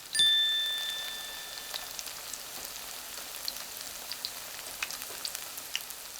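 Mung bean pancakes (bindaetteok) frying in a pan give a steady, fine crackling sizzle like light rain, close and moderately quiet, with scattered sharper pops throughout and no talking.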